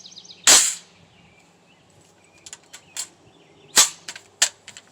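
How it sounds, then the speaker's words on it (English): Gunshots at an outdoor shooting range: one sharp loud crack, then a spaced series of quieter and louder cracks a few seconds later, each ringing briefly against faint background noise. "let's get to shooting."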